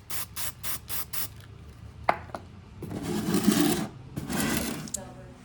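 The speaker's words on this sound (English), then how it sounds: "Let's spray it with some Alumablast." Alumablast cleaner sprays onto a welded aluminum block-off plate for a Honda CRX, a few short bursts followed by longer hissing sprays and some handling noise, close and fairly loud.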